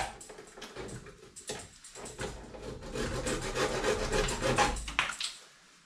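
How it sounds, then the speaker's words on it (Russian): Hand saw cutting through the frame of a BRP Renegade XMR 1000 ATV while fitting a radiator relocation kit, close and steady rasping strokes that build in loudness and speed before stopping abruptly. "Жесткий запил пошел."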